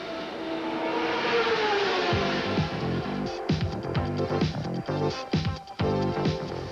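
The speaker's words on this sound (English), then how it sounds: "That's one of the Buick engines. They'll get him restarted and back into the action." A Buick engine in a 1990 CART race car at Milwaukee roars steadily and loudly, then breaks into choppy, stuttering revving bursts as it is restarted, with no talk over it.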